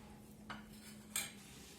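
A utensil stirs thick milk in a pot, giving two soft metallic scrapes and clinks over a quiet low hum.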